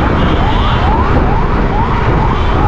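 An ambulance siren wails loudly and continuously in a rising, repeating sweep, up close and with steady traffic noise underneath.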